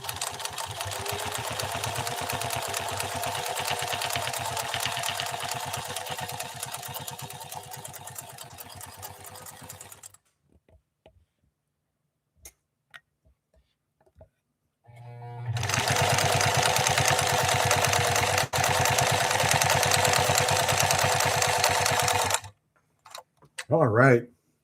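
A Pfaff 332 zigzag sewing machine running in two long bursts, a steady fast mechanical whirr with rapid ticking of the needle, separated by a pause with a few faint clicks, close and clear, with someone talking briefly between runs.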